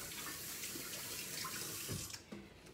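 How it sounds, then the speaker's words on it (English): Hands rinsed under a running kitchen tap, a continuous close splash of water that thins near the end as the flow breaks up. "I'm gonna go ahead and rinse off my hands really quickly."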